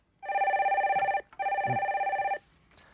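A telephone rings for a caller on a live call-in stock market broadcast, two steady electronic trilling bursts of about a second each with a brief gap between, loud and close, with no talk over it.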